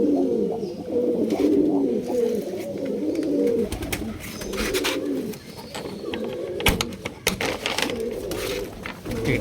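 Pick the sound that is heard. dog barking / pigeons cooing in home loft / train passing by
pigeons cooing in home loft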